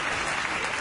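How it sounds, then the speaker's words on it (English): An audience breaks into applause, a dense, even wash of many hands clapping in a brief, moderately loud burst. "the audience applauded the idea"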